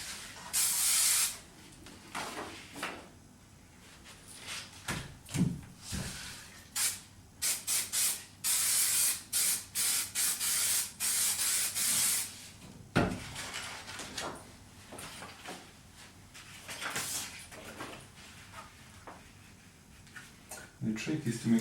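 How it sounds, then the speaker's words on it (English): Repositionable spray mount adhesive hisses out of an aerosol can in a series of short and longer bursts close by, with quiet handling knocks and faint talk in between. "This is a spray mount. It's a repositional glue adhesive"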